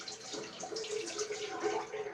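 Water runs steadily from a tap close by during a shave, a soft continuous splashing hiss with no talking.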